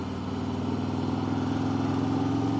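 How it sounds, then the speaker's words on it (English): A motorcycle engine idles steadily at a fuel stop, a close, even, mid-pitched rumble that stays level throughout with no talking. "Listen to that engine purr."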